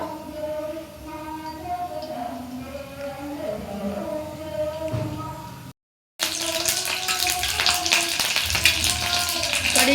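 A voice talks over faint background noise, then after a brief cut a loud, dense crackling and spitting of leaves in hot oil takes over.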